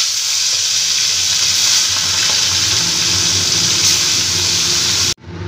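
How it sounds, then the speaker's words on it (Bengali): Bhola fish fry in oil in a kadai with a loud, steady, close hiss of sizzling that continues unbroken before cutting off abruptly near the end. "এবার আস্তে আস্তে মাছগুলোকে আমি ভেজে নিচ্ছি"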